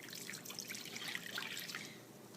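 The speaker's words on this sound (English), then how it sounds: "I'm going to add my 1 cup of warm water" A cup of warm water is poured into a mixing bowl of yeast for homemade pizza dough, a soft, close trickle and splash lasting a couple of seconds, quiet and without talk.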